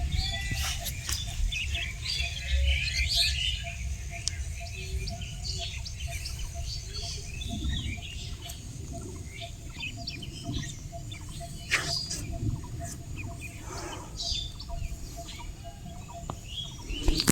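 A baby bird in a hole in the ground gives thin, repeated high chirps while it is lifted out by hand, with some soft rustling and handling noise close by throughout.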